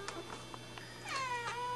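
A house cat meows several times close by, short calls followed by a longer, drawn-out meow, over a low steady hum.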